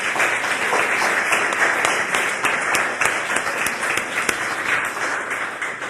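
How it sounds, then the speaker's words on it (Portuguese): A church congregation applauding at an evening Sunday service, a dense, steady round of clapping from many hands filling the room for several seconds. "Se você concorda, aplauda o Senhor."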